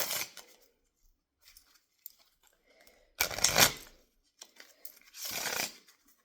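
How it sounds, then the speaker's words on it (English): A deck of playing cards is shuffled for a Texas Hold'em game, in two brisk, crisp riffle bursts with a pause between them. A few soft card handling sounds come before the shuffles, close up in a quiet room. "Give me 1 second to shuffle up these cards, make sure they're all shuffled."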